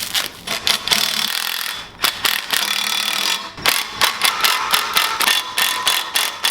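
Peg mounts being bolted onto the stunt bar of a 72V Sur Ron X supermoto electric stunt bike, heard as close, rapid ratchet clicks and metallic rubbing in quick bursts with brief pauses, with no talk.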